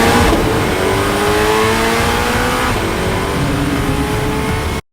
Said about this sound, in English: they teased again the ZR1, but this time they had a little exhaust tone clip of the sound